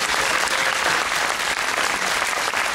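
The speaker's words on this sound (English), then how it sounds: "They deserve the applause." Steady, dense applause from a large audience at a live podcast recording, thanking a cruise crew; continuous clapping fills the whole stretch at even strength with no voices on top.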